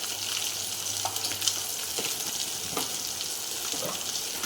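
Vegetables with cumin powder, vegetable masala and garam masala sautéed in a pan, a constant close hiss of frying broken by a few soft stirring scrapes, with no voices.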